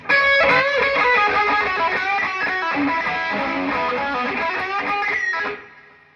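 Distorted electric guitar played through a Marshall amp, thick crunchy chords ringing steadily for several seconds before a quick fade, no voices.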